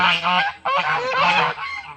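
Geese honk loudly and close by, a few harsh, overlapping calls in quick succession.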